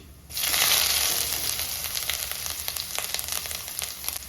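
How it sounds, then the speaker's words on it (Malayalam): Mustard seeds hit hot oil in a pan for a Kerala-style fish curry, bursting into loud, steady sizzling scattered with sharp crackling pops that continue without pause and without voices. "എണ്ണ ചൂടായി വന്നിട്ടുണ്ട് അതിലേക്ക് ഒരു അല്പം കടുക് ഇട്ട് കൊടുക്കാം കടുക് പൊട്ടാൻ തുടങ്ങിയിട്ടുണ്ട്"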